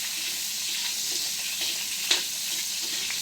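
Potato and carrot pieces frying in hot oil for pork rib caldereta, a dense, steady hiss of sizzling with one small pop midway, close and even, no voices.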